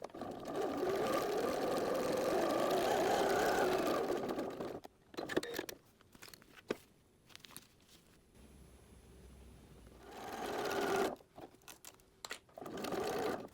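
A sewing machine stitches Velcro onto a snack bag in a long steady whirring run, then stops. Short bursts and handling clatter follow before a second sustained stitching run.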